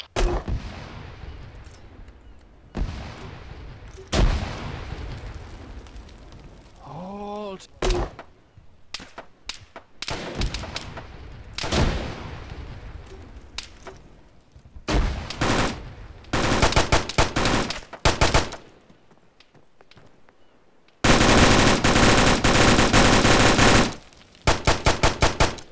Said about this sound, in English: They're shooting GPs at us.